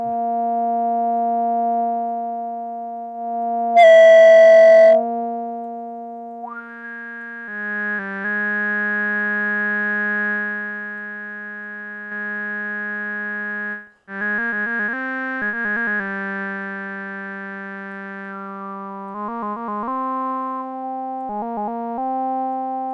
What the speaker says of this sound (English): We even get to the point with this filter that it starts to self-oscillate.